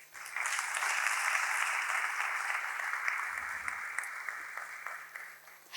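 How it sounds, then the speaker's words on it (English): Loud, sustained applause from a crowd at a stock exchange listing ceremony for Mother Nutri Food Ltd, a dense wash of many hands clapping that holds steady for several seconds and trails off slightly at the end. "please give the company a huge round of applause"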